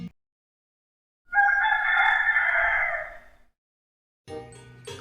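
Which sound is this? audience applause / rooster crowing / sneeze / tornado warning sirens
rooster crowing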